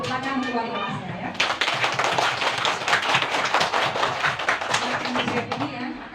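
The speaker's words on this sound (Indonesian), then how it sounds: "tepuk tangan luar biasa ya" Schoolchildren in a second-grade classroom break into loud, fast group clapping that rises suddenly and holds steady for several seconds before tapering, with children's voices and chatter mixed in throughout.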